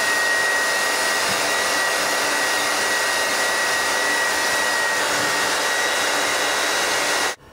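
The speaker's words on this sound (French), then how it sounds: "Je minimise vraiment la chaleur au niveau du sèche-cheveux." A hair dryer on its cold air setting blows in a continuous, even roar at close range for the whole stretch, cutting off abruptly at the very end, with no voices.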